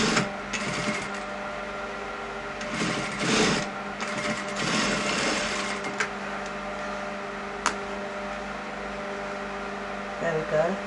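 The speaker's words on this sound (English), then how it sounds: "I'm going to stitch this bit here and close it up, following my guideline, that stitch line" A sewing machine stitches a men's trouser back pocket, its motor humming steadily with short bursts of louder stitching and brief pauses, close up with some talk over it.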